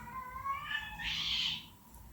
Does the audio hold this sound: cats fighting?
yes